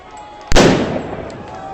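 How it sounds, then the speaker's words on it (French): A stun grenade goes off at a Paris street protest: one sharp, loud blast, then a rumbling tail that fades slowly over a low background of crowd noise. "Grenade assourdissante."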